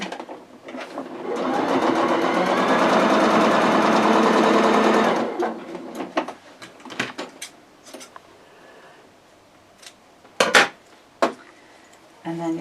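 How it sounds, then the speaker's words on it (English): A sewing machine runs steadily for a few seconds, whirring close by, then stops, followed by clicks, knocks and light handling noises. "and then just sew straight across that on your sewing machine."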